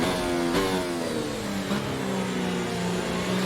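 Race car engine in a racing video game at the Belgium Grand Prix, a steady loud mid-pitched drone that shifts pitch through gear changes and revs, continuous throughout with no talking.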